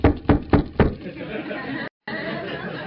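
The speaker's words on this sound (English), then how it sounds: "That's the sound of you knocking on someone's door you're going to make the amends to." Knocking on a door: four firm, evenly spaced raps, close and loud, followed by a murmur of background chatter, with a brief dropout near the end.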